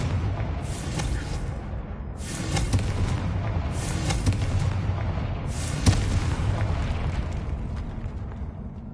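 Confringo fire-blast spell in the Hogwarts Legacy video game, bursting in a series of loud booming explosions with rumbling tails over a dense game soundscape.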